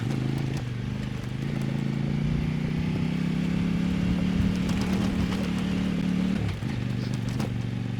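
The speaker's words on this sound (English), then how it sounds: "it's Kove's own version of the KTM 800 motor" Engine of a 2025 Kove 800X Pro motorcycle, built around a KTM-style 800 motor, droning steadily while riding, with a sustained low hum shifting pitch slightly, and wind rush over it near the end.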